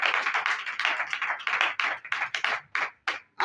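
A church congregation claps in a fast, uneven burst of many hands, loud and close, with short gaps as the clapping breaks into separate rounds near the end.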